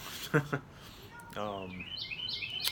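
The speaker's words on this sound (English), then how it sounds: "These birds, man." Small birds chirp in a quick series of high tweets toward the end, following a brief burst of someone talking; fairly faint and close.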